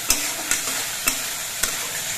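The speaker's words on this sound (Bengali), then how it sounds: "এবার সবকিছু দিয়ে মশলাটা কিছুক্ষণ কষিয়ে নেব।" Spice paste with coriander and cumin powder sautéed in a pan for papaya kofta curry, a steady sizzle broken by four evenly spaced scrapes of the spoon.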